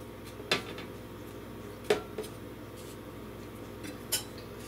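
Frozen snickerdoodle cookie dough set onto a greased metal baking pan, three or four sharp clinks and taps spaced a second or two apart over a steady low room hum.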